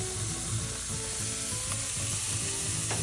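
Flank steak searing on oiled grill grates over direct fire, a continuous close sizzle with a faint hiss, music playing underneath.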